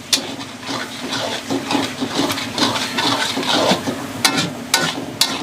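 Water pours steadily into a pan of cooking minced chicken, a continuous splashing rush with a few clinks near the end, close by and without talk.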